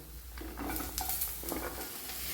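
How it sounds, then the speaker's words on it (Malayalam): Beans tumble into hot grated coconut in a pan and get stirred, making a brief, close sizzle with soft scraping that fills the whole short moment. "അതിലേക്ക് ഈ അമരയ്ക്ക ചേർത്ത് കൊടുക്കാം"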